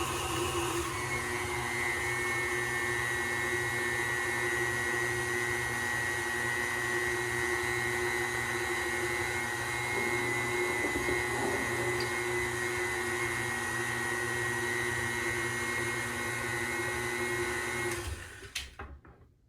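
Electric mixer creaming a New York cheesecake filling in a bowl, a steady loud motor whir with a constant tone that runs for most of the clip and then cuts off near the end.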